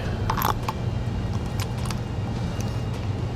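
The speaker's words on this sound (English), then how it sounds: "I'm going to take a socket and put it in there that way" Metallic clinks and clicks of a socket tool tightening a bolt while a Timbren suspension enhancement system is installed on a 2012 Ford F-250, with a few sharp close taps over a steady background hum.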